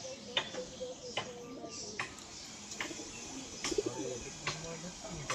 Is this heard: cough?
no